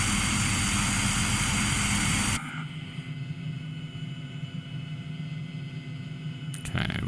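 A helicopter cruising at about 6,000 feet and 120 knots: a loud, steady roar of engine and rotor drops after a couple of seconds to a quieter continuous cockpit drone that swells again briefly at the end.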